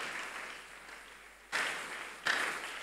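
A church congregation breaks into applause, a steady crowd clapping that swells in two sudden louder bursts partway through.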